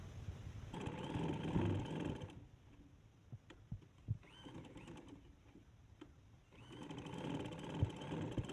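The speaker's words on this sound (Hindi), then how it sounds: "चलते हैं सिलाई लगाते हैं।" A sewing machine stitches a kurti with a collar neck, running in two loud, steady whirring bursts. Between them is a quieter pause with small clicks and taps.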